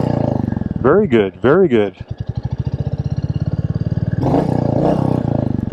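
A Royal Enfield Meteor 350 motorcycle engine, the red SuperNova version, revs in two quick loud bursts, then settles into a steady close-up idle throb with a person talking over it.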